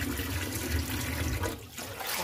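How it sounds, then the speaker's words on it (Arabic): Cold water pours over freshly boiled eggs in a kitchen, a steady, close rushing splash that dips briefly before carrying on. "دابا كنخوي ليه الماء بارد"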